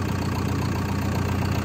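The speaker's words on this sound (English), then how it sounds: "So the machine fires up and" A late-model Tier 4 diesel machine engine runs steadily just after start-up, a loud, continuous low idle rumble with a faint knocking texture and no pauses.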